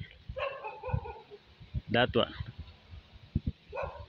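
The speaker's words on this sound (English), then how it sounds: "I'm returning because of that dog. He's barking." A dog barks outdoors in Angónia with a few short, rising yelps in the middle, mixed with a voice talking and background noise.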